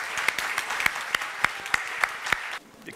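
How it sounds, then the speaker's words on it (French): Audience applause at a 2013 university graduation ceremony in Orléans, greeting the top student of the class: moderately dense clapping with sharper individual claps standing out, running steadily for over two seconds before dropping away abruptly. "On va l'applaudir très fort."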